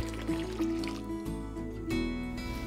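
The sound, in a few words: warm water poured into foot bath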